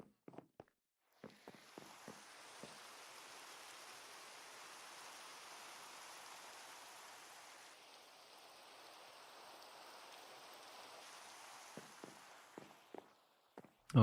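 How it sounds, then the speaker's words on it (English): Steady rain from the Minecraft video game, a continuous hiss lasting most of the clip, with a few soft clicks and taps at the start and end. "The rain."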